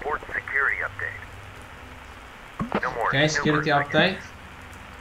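Steady rain falls in the video game Fears to Fathom: Ironbark Lookout, a soft continuous hiss running throughout under two stretches of talking.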